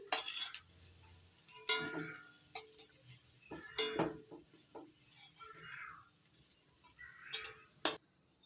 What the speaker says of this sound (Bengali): হালকা লালচে করে আলুগুলো ভেজে নিচ্ছি